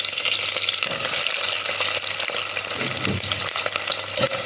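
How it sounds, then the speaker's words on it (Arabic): Chopped onions dropped into hot ghee in a pan for a meat biryani, giving a loud, dense, continuous sizzle close up, with occasional stirring scrapes underneath and no voices. "طبعا كده السمنة بتاعتنا بدأت تسخن، ننزل كده بالبصل"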